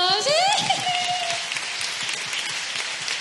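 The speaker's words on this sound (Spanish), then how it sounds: "Un aplauso para ellos" Concert audience applauding the singer's parents at a spring concert in Miramar, a steady dense crowd of clapping filling the whole stretch, with a brief whistle-like tone near the start.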